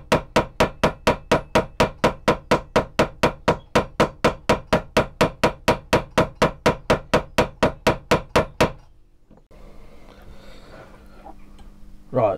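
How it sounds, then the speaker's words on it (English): Rapid, steady hammer blows peening a metal sword tang, about three per second for several seconds, then the hammering stops and quiet workshop noise follows. "you should see me peening on this"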